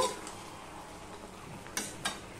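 Spinach with sugar stirred in a pan, a soft scraping stir under a faint sizzle, with two sharp utensil clinks against the pan near the end.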